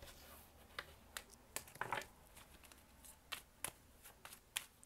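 Tarot cards being drawn and handled on a table, a series of quiet crisp card flicks and slides spaced irregularly, with a brief rustling shuffle near the middle.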